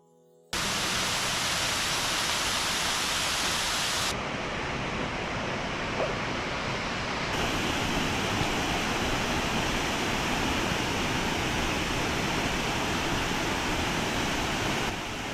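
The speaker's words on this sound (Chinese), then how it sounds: "这里的瀑布名叫雪花记" Xuehua waterfall at Dazhi in Zhejiang, swollen and muddy after rain, gives a loud, steady, broadband rushing roar throughout, heard up close, with a slight shift in tone partway through and no voices.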